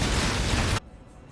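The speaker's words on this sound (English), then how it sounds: "You'll be able to place down a lot of explosions, blow everything up" Video game explosion in Path of Exile, a loud broadband blast that fills the first part of the moment and then cuts off abruptly into quiet.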